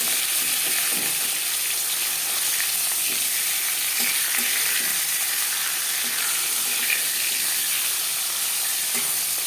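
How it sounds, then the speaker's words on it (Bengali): Rohu fish pieces frying in a pan of hot oil for a Bengali yogurt fish curry, giving a steady, dense sizzle and hiss that runs unbroken and close throughout, with faint stirring noises and no talking. "মাছ একটা সাইড ভাজা হয়ে গেলে অপর সাইডটা উল্টে দেবো।"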